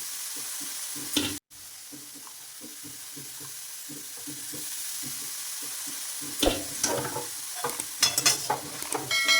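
Potatoes sautéed in oil with whole spices for a banana flower curry, a steady low sizzle broken by repeated stirring scrapes, with a brief dropout early on and busier clattering toward the end.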